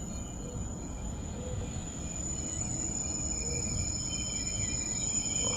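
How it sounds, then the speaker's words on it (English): Thin, steady high-pitched brake squeal from a Vectron BR 193 locomotive in Train Sim World 4, held over a low rumble of rolling wheels, with faint shifting tones and no talk. "The brake squeal's lovely as well."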